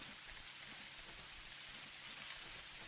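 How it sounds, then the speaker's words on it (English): Rain falls steadily inside a motel room in the video game Jalopy, a constant even hiss of drops through a leaking roof with no voices. "Oh, it's raining in my room."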